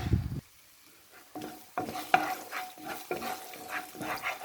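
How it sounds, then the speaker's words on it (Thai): Garlic is stir-fried in a pan for ratna, with a brief opening clatter, then a sizzling hiss and repeated scraping strokes of a spatula in an uneven rhythm, close up. "ผัดกระเทียมนะคะ"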